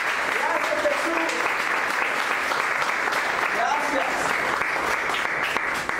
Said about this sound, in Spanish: Le damos una ofrenda de palmas a Dios.